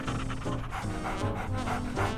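A dog pants close by in quick, even breaths, several rhythmic huffs repeating steadily through the short stretch.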